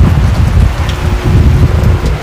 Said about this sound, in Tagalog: Umuulan na oh.